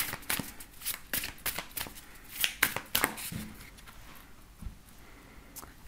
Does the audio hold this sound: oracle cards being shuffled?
yes